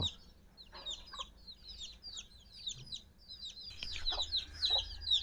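A flock of backyard chickens is fed in the morning at a home in Surin. They cluck in busy, overlapping bursts at moderate distance, with a few sharper calls near the end.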